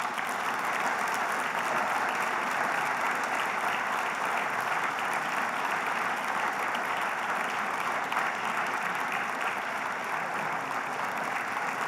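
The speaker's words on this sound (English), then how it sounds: "It's time to applaud." Steady, sustained applause from a church Bible class audience honoring veterans, a dense wash of many hands clapping at even loudness throughout, with no voices standing out.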